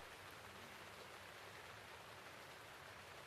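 Steady rain in The Legend of Zelda: Breath of the Wild, a constant soft hiss of falling water with no breaks, faint and even throughout.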